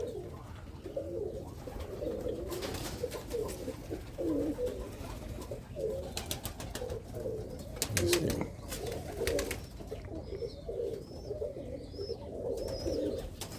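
Birmingham Roller pigeons coo in a steady, continuous murmur of low throaty calls from a young kit, with occasional brief chirps and scattered background noise.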